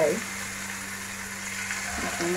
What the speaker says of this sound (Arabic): ودابا غادي نقليهم في الزيت نتاعي